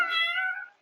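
A single cat meow in the Roblox game Livetopia, clean and close, held briefly before trailing off into silence with no talk.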